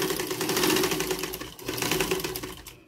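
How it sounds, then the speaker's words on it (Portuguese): Close, continuous whir and rapid needle clatter of a sewing machine stitching fabric triangles for a dish towel, with a short dip in the middle before stitching resumes. "coloco aqui na máquina, baixo o pezinho, faço uma costurinha, dou o meu retrocesso e continuo a minha costura"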